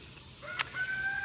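Backyard chickens on their first time out near the coop squabble over a worm, with one brief sharp squawk over a low scratchy background and faint outdoor noise, no talking.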